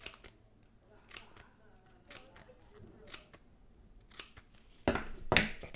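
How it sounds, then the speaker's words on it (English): Scissors snip relief cuts around the edge of a HiFiMan Edition XS headphone ear pad, a sequence of sharp, evenly spaced clicks about once a second, ending in a louder crinkly rustle of material close by. "put a load of relief cuts around the edge with some scissors"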